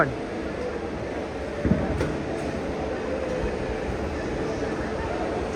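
A steady, loud rumble of a train bound for Prayagraj moving along the tracks, with a crowd's chatter mixed in and a brief clunk partway through.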